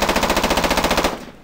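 A rapid, mechanical automatic-fire rattle serves as the mechanics layer of a designed gunshot sound effect, loud and close with evenly spaced bursts for about a second before trailing off.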